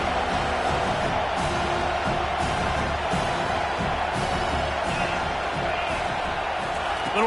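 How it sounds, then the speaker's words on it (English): A college football stadium crowd roars steadily, a dense, distant wash of cheering and yelling with faint thuds, while a commentator talks over it. "this crowd trying to help keep them there"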